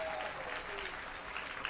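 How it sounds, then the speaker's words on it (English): A crowd applauds a taiko drumming competitor at a taiko competition, a brief burst of dense clapping that holds steady throughout. "Give it up for Sarah one more time."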